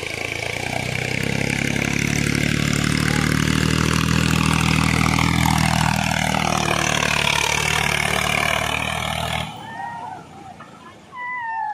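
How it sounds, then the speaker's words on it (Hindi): A tractor engine churning steadily as it crosses floodwater on the Ganga river, a loud low rumble with splashing and rushing water over it, then dropping away near the end. "तो ये ट्रैक्टर तो हो गया पार।"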